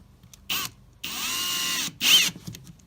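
A power drill whirs in three short bursts, the middle one longest, as it drives screws into wood for a butcher block kitchen island, with quiet pauses between.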